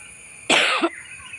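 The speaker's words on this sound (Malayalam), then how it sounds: "ചുമയാണ് കേട്ടോ" One sharp, close cough bursts out in a quiet indoor room, a single harsh burst with a short trailing catch at the end.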